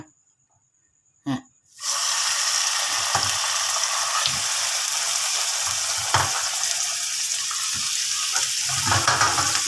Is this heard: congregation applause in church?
no